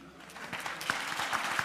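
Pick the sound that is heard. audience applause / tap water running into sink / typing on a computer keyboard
audience applause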